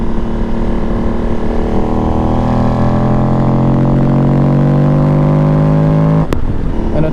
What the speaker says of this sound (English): that's where you're going to really hear the intake sucking